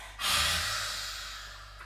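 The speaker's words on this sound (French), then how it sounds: "on prend une grande inspire et à l'expire." A deep breath drawn in and let out during a parent-and-child yoga session: one long, soft, airy breath that swells quickly, then slowly fades over almost two seconds, close by with no talking.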